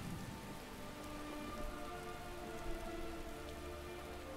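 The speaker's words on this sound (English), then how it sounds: "And it's raining all of a sudden." Steady rain falls in the video game Skyrim, a soft constant patter of drops on surfaces, quiet and unbroken throughout with no voices.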